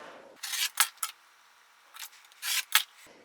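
Quilting fabric folded in layers is cut into 3-inch strips, heard as a few short bursts of crisp slicing and rustling separated by brief quiet pauses, close and clear with no talking.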